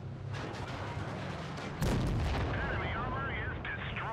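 A tank cannon fires from the Shark tank in World of Tanks Blitz, one sudden heavy boom cutting through a constant rumbling game backdrop, with whistling tonal effects trailing after it.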